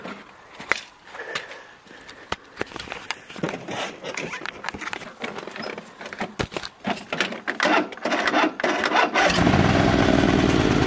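A small garden tractor engine sputters and clatters unevenly, then catches and settles into a loud, steady running drone near the end.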